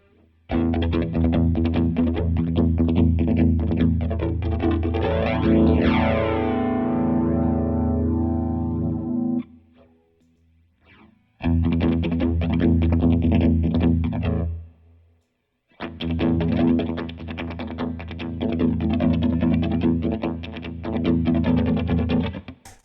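Electric guitar chords run through a Strymon Deco tape saturation and doubletracker pedal, sustained and loud with a sweeping, warbling modulation as the tape speed changes, played in three long passages separated by short pauses.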